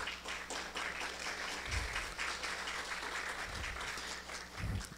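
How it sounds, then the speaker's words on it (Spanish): Applause from an audience at an international course, a steady wash of clapping lasting throughout, with a few low thumps underneath. "Un fuerte aplauso para nuestro decano."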